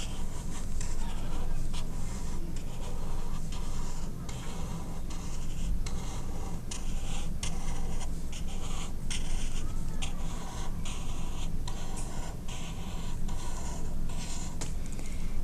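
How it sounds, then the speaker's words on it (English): A pencil or marker sketches a large sunflower on paper, drawing a circle and petals; steady close scratching and rubbing strokes run continuously under a constant room hiss. "And then draw your petals around it."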